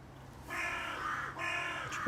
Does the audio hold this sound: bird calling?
yes